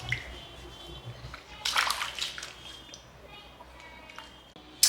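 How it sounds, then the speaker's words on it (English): Water splashing and sloshing over feet to rinse off a foot scrub during an at-home pedicure, with a brief burst of splashing midway among quieter trickles and drips. "Wash the scrub off."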